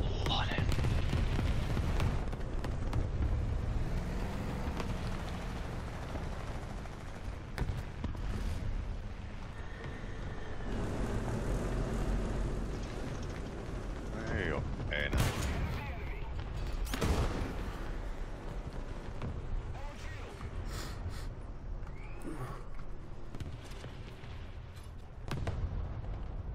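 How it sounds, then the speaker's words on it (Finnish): Gunfire and explosions in the War Thunder video game, with sustained loud battle noise and several sharp bursts and booms aimed at the spawn area, repeated throughout the clip. "Spawnille ammutaan jostain."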